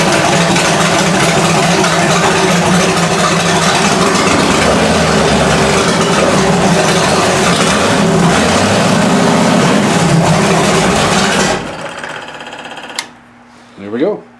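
A small block Chevy V8 in a goose box motor swap runs loud and steady up close for about eleven seconds, then cuts to quiet, followed by a brief voice.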